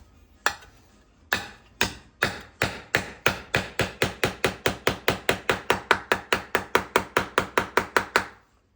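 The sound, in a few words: hammering a metal wheel well patch with a dull beater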